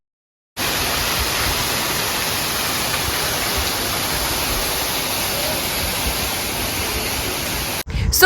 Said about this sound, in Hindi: एक छोटा सा वाटरफॉल है